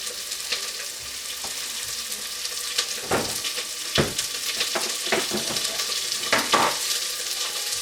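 Red onion frying in oil for sambar, a steady close sizzle with occasional sharper crackles and stirring scrapes, no voices.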